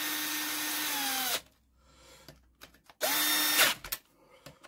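A power tool nips up the wheel bolts on a Honda, with two loud whirring bursts separated by a pause filled with faint clinks and handling sounds, close by.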